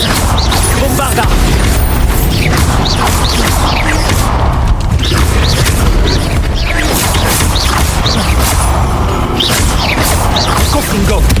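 The Bombarda blasting spell going off in Hogwarts Legacy combat, loud dense booms, crashes and mechanical clatter that fill the whole stretch without letup, with game voices mixed in.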